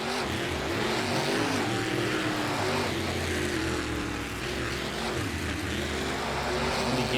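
A truck drives out onto a race track at a 2010 Philly racing event, producing a loud, steady engine roar that holds for several seconds and swells slightly, with no talking.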